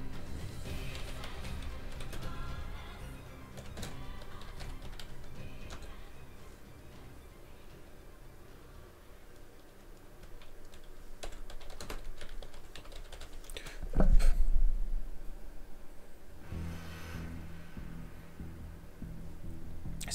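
Steady typing on a computer keyboard runs throughout, with a louder burst of keystrokes near the middle and faint music underneath.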